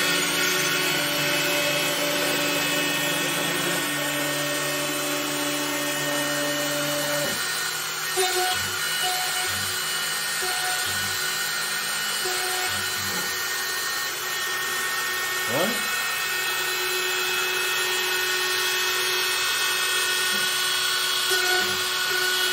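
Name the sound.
CNC router cutting a wooden guitar body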